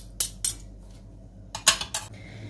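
A few quick metallic scrapes and clinks of a spoon scraping spicy ketchup sauce from a bowl, in short bursts close by.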